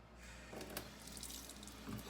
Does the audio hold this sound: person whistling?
no